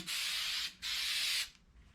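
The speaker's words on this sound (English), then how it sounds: "Shake it up good and then just spray it on" Two long hissing bursts of spray adhesive from an aerosol can onto foam, close and loud, with a brief pause between them, then quiet.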